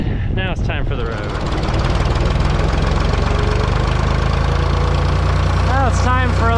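A vehicle's engine pulling a cattle feed grinder down the road, a loud, steady rumbling drone close by, with someone talking over it.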